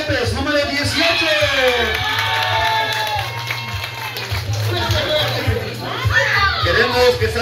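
An audience cheers, whoops and claps for a player being introduced at a Pollos FC soccer club anniversary presentation in Bridgeton, NJ, a loud sustained crowd roar with children's voices and shouts mixed in.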